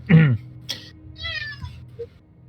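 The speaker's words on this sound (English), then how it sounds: "Who let a cat in here?" A cat meows several times, one loud drawn-out meow first, then shorter, softer mews and a faint chirp, close by with no talk.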